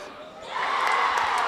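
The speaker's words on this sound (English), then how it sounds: "This Wakefield crowd is emphatic right now" A gym crowd at a high school boys basketball game against Wakefield swells into loud sustained cheering and shouting, rising within the first half second and holding steady.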